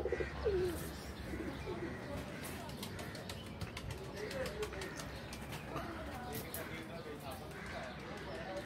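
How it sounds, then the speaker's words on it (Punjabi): Pigeons coo and chirp nearby as they land at a Lahore pigeon-flying loft, with occasional wing flutters and clattering, while people talk over the sounds throughout. "ਪੰਜਵਾਂ ਕਬੂਤਰ ਬੈਠ ਰਿਹਾ ਬਾਰੀ ਸਟੂਡੀਓ"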